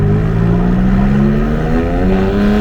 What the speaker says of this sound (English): let's go ahead and start off with an acceleration here. Let's put it in sport mode